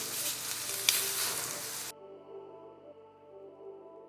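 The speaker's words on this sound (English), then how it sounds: "Now I turn them another side. So basically I'm trying to grill them all around." Filet mignon steaks sear in a hot pan with a steady, close crackling sizzle that breaks off abruptly partway through, leaving only a faint low hum.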